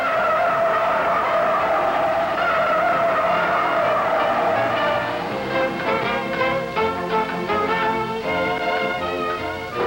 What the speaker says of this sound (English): But when you push it through, hard understeer sets in, and the front end washes out.